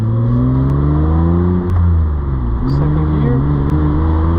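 A 2003 Mitsubishi Eclipse GTS Spyder with a 3.0L V6 and manual gearbox pulls hard in first gear, its engine note climbing steadily and loud from inside the cabin, with a brief dip partway through.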